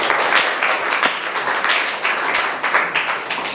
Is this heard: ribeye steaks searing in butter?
no